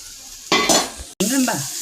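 Onions frying with salt, then crushed ginger and garlic added, for a pork roast: broadband sizzle with stirring that starts abruptly, breaks off briefly, then resumes loud and close, no talk.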